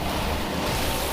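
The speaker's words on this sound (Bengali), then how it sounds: "জেট স্কি অনেকটাই জোরে যেতে পারে" A jet ski racing flat out across open water in a race, its steady engine roar and rushing spray filling the short stretch loudly and continuously, with wind buffeting the microphone.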